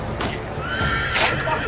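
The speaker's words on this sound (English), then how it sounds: "Oh, horse is on the way." A horse whinnies in the Game of Thrones Telltale video game, a short, loud, wavering neigh. Hoof clip-clop and other game sounds mix in around it.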